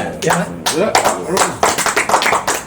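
A few people clap their hands in scattered, uneven bursts close to the microphone while voices talk and laugh over them.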